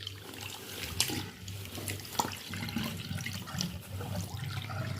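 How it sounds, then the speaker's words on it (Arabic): Water drains after a fiber quilt is washed, a steady low gurgling flow with splashy trickles and a couple of sharper drips, close and fairly faint with no talk. "وفتحت صفيت الميه خلاص اهي. هصفي الميه خالص."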